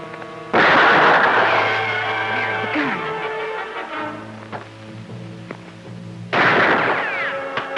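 A single loud gunshot booms nearby in an old western television episode, with a long rolling echo after it. A second sharp report follows a few seconds later.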